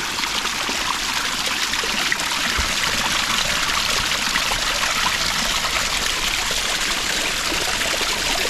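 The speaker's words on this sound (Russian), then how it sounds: "между сопок бьет маленький-маленький ручеек" A very small stream trickles between hills on the Sea of Okhotsk coast, a steady, close, continuous babbling hiss of running water with no voices.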